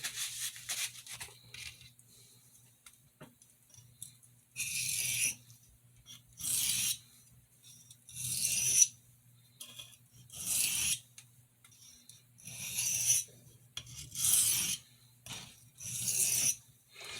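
A paring knife is drawn across a 400 grit sharpening stone in repeated rasping strokes, each about a second long, with short pauses between them. Close and fairly quiet, with no voices.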